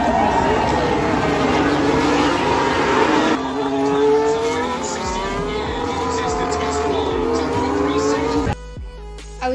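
Roaring Formula 1 cars charge into turn 1 at the Austin Grand Prix, heard loud from the stands as a dense engine wail with rising and falling pitch sweeps as cars pass, then a sudden drop near the end.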